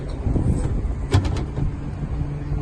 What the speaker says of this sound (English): Huge live well in the aft there. Open that up for you.